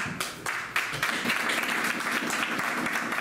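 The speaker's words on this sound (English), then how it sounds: "a big round of applause for the women over here" Applause for the women at a Pakistani community gathering in Jackson Heights, a dense, lively round of clapping from a crowd that carries on steadily for several seconds.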